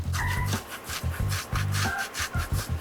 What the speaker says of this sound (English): I'm gonna use this utensil just to grate the salami